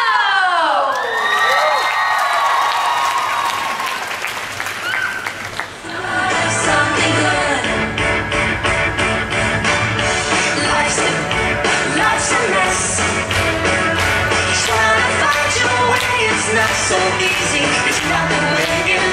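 An audience cheers, shouts and claps loudly for a 2011 graduates' dance show. The crowd noise swells and continues throughout, with children's shouts over dense, steady applause and a rhythmic pulse of music beneath.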